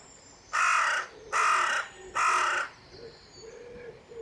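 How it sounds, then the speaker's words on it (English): Crows caw three times in a steady, evenly spaced series, loud and fairly near, followed by fainter calls over a quiet riverside background of birds, sheep and flowing water. "We've got crows, wood pigeons, the sheep,"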